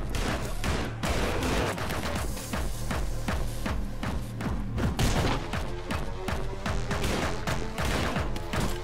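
Rapid, dense volleys of gunfire from the first-person action game Anger Foot, with many sharp shots cracking over a loud, busy game soundtrack for the whole stretch.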